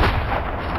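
Gunfire in the video game Metro 2033 comes as a heavy, loud, sustained booming blast that fills the whole short moment.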